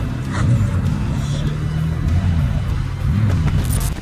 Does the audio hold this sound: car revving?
yes